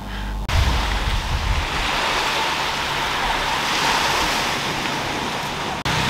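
Ocean waves wash steadily onto a sunny beach, a continuous broad rush of surf mixed with gusty wind buffeting the microphone, loud and close, with no talking.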